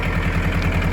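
A 1981 Isuzu Pup pickup with a C223 diesel engine idles through a broken exhaust, giving a steady, loud, low throbbing pulse close by for the whole second, with no talking.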